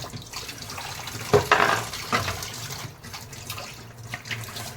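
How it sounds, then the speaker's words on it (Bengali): Tap water runs in a kitchen sink while dishes are washed, a soft steady splash with a few clinks and knocks of utensils, close and fairly quiet. "এই বাসন কটা ধুয়ে তারপর বেরোবো"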